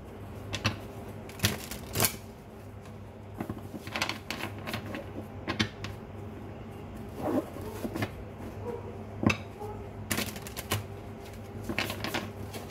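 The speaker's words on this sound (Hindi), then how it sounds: "चलिए अब इन्हें शफल कर लेते हैं" Playing or oracle cards being shuffled by hand, a run of crisp riffling flicks and soft card slaps coming in irregular bursts, close up and moderately quiet, with no talking.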